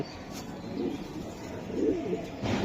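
Soft, low coos from a racing pigeon repeat a few times over a steady background hum, fairly faint and without speech.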